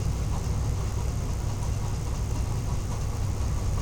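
A sewing machine stitches the seam of a party-wear designer dress, giving a steady, dense, continuous mechanical whir that runs unbroken at an even level throughout, with no voices.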